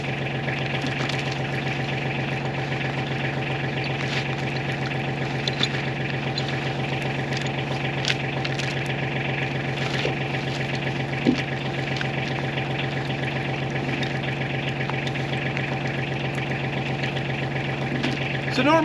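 Tractor fitted with a box blade idles steadily at close range, its engine a constant drone with a strong low hum, while it lifts and moves a log; faint speech sits under the engine noise.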